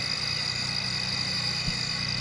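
Crickets chirping, a steady high-pitched trill over a low background hum, continuous and moderately loud with no voices.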